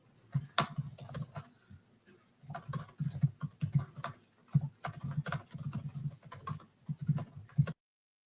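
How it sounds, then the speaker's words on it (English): Rapid, uneven clatter of someone typing on a computer keyboard in a courtroom during a preliminary hearing, keystrokes in quick bursts with short pauses, fairly close and moderately loud, with no talking. "hammering away on his keyboard"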